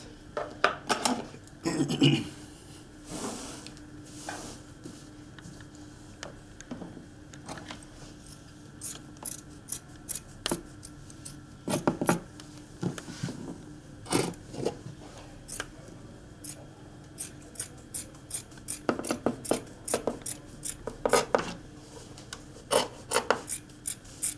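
A marked piece being cut out by hand with a tool, repeated rasping, ratcheting strokes and scraping in uneven bursts, close and fairly loud, with quiet pauses between.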